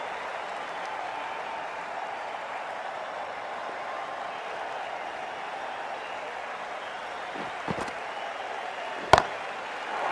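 A stadium crowd in Cricket 24 during an Australia vs New Zealand T10 match applauds a six, making a steady, moderately distant roar of clapping and cheering, with a couple of sharp knocks near the end.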